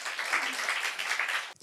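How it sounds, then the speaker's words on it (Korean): A church congregation claps during a Korean Sunday worship service, a brief, even burst of applause from many hands that cuts off abruptly. "우리 하나님 박수 올려드려요."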